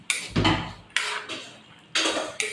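Red peanuts being stirred in a pan for adobong mani, giving several scraping, rattling bursts of nuts and utensil against metal in an irregular rhythm, close and fairly loud.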